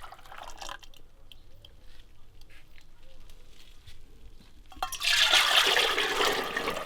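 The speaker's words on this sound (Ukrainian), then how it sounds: "наливаю в чайники" Bee feed solution poured into kettles at an apiary: faint drips and trickles at first, then a loud, steady rush of liquid pouring near the end, close by, with a voice talking over it.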